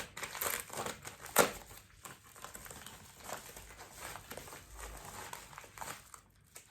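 A small AliExpress parcel is opened, with close, quiet crinkling and crumpling of plastic packaging in irregular bursts and one sharper rustle.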